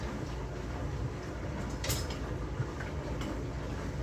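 A steady low rumbling hum of a dishwasher running in the background, with a few faint clicks and a brief hiss.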